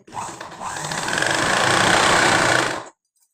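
A sewing machine runs a continuous stitching burst through fabric, its steady whirring motor and rapid needle clatter rising slightly in loudness over about three seconds before stopping abruptly.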